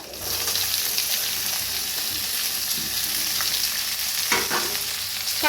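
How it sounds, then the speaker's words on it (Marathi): Onion sautés in a pan with a constant close sizzle, punctuated by stirring scrapes and a couple of sharper clatters of the utensil against the pan. "आता त्याच्यातच कांदा भाजून घेऊया।"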